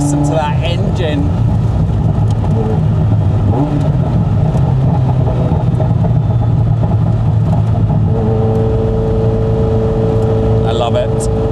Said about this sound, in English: Oh wow, listen to that engine